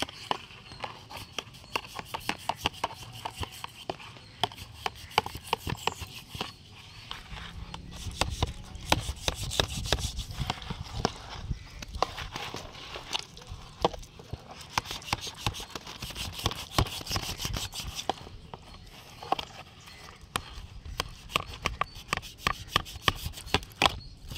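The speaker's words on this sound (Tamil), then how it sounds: "இப்போ நம்ம கூறு போட்டு மசாலா எல்லாத்தையும் தடவிக்கலாம் வாங்க" A knife cuts a large fish and masala is rubbed into the flesh for clay-baked cooking, heard as faint rapid tapping and scraping strokes with soft rubbing, quiet and close with no talk.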